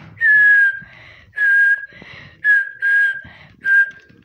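A referee's whistle ends the first half of a Corinthians football match, sounding five sharp, loud blasts in a steady rhythm, each held about half a second, with faint stadium noise in between.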